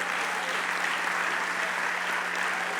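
Congregation applauding in a church service, a steady dense wash of clapping held at even loudness from start to finish, with no voices standing out above it.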